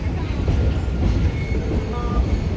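Blue Ridge Scenic Railway train rolling along its tracks near a highway crossing, a steady low rumble and rattle of the cars that holds for the whole stretch at fairly close range.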